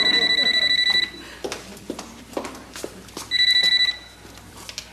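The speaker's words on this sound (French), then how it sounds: "Téléphone." A telephone rings in two bursts of rapid electronic trilling, loud and close, with a stretch of talk and room noise between them.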